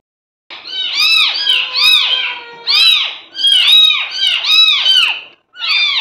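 A cat meows again and again, close and loud, about eight insistent meows in quick succession with short pauses between them.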